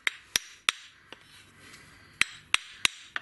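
Sharp metallic hammer blows drive a press-fit coupling, ringing out in two bursts: three quick strikes, a pause with faint rustling, then four more evenly spaced hits.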